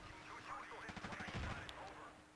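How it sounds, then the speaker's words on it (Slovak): A grenade explosion in the Battlefield 2 video game, a quick cluster of faint bursting thuds amid battlefield noise, with voices talking over it. "Ten zvuk taký granátu."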